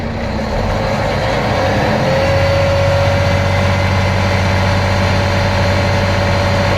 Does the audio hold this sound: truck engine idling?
yes